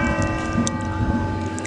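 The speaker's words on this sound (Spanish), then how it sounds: "Las campanas suenan, mira." Small bells ring repeatedly against a steady hum, bright intermittent dings spaced irregularly over less than two seconds, close and moderately loud, with no talking.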